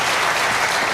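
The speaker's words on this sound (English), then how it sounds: "I'm humbled by that applause" A television talk show studio audience breaks into a loud, dense wash of applause, a continuous burst of clapping with no voices above it.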